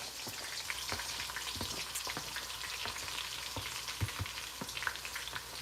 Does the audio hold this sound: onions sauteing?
yes